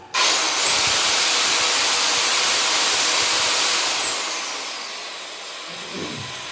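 A new 1500-watt circular saw runs loud and steady for about four seconds with a high motor whine, then winds down as the blade spins out, ending in a brief low thump.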